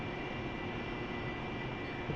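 A steady, loud whine and rumble from an AV-8B Harrier jet engine, idling at low throttle as it taxis across a carrier deck in the DCS flight simulator, holding an even drone throughout.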